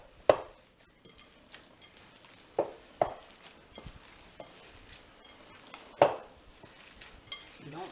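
Hands work a meatball mixture with breadcrumbs in a bowl, giving soft squishing and stirring sounds punctuated by several sharper knocks and clinks against the bowl, close and fairly quiet with no talking.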